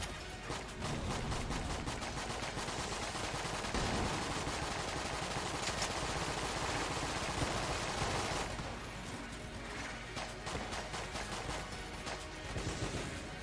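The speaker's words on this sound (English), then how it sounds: "We should keep shooting" Constant barrage of video-game gunfire in Enter the Gungeon, a loud unbroken stream of rapid shots and impacts that eases slightly near the end but keeps firing throughout.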